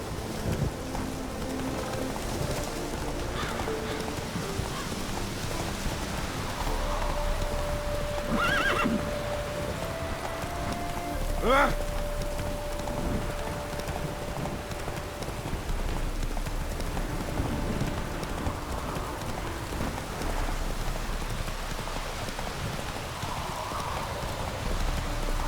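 Roach, a horse in The Witcher 3, gives a clear neigh midway through, and a string of clip-clop hoofsteps plays over an ambient outdoor bed. Faint rain- or water-like background sound runs underneath.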